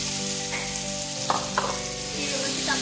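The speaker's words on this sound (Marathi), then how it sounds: "तेल गरम झालं की त्यामध्ये जिरे व्यवस्थित तळतळले की त्यामध्ये आपण मसाल्यामध्ये मिक्स करून ठेवलेले सोयाबीन टाकून घेऊ" Spiced soybeans tipped into hot oil with cumin seeds, setting off a loud, close frying sizzle with a few sharp spits and pops during a brief burst of cooking.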